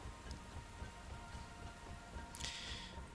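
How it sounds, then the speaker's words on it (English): Rain falling inside a cave in the video game Deep Rock Galactic, a faint, continuous soft patter with a brief sharper burst near the end, heard alone at low level. "it is raining inside the cave"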